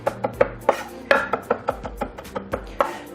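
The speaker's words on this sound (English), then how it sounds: "quickly chop this up." A sharp knife chops rosemary and lemon thyme on a cutting board in about a dozen crisp, fairly regular knocks, loud and close with nothing else heard.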